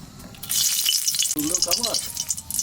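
Dried red chillies fry in hot oil with a steady, close crackling sizzle, briefly stirred, while a voice speaks over it midway.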